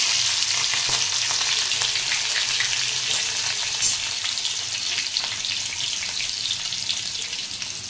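Mustard seeds and green chillies fry in hot oil for a Marathi green moong usal, giving a steady, close sizzle with scattered crackles and pops throughout and no talking.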